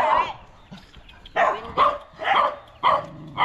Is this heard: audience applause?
no